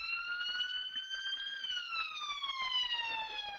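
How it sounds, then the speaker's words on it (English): Several ambulance sirens wail together in a steady, slowly falling electronic tone as the vehicles leave the grounds of a workshop venue, heard faintly from indoors with no speech over them. "excuse me while the ambulances exit the premises"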